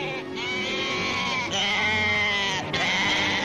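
Many sheep bleat continuously and loudly at a large sheep market in Ede in 1959, their overlapping cries forming a dense chorus with no gaps.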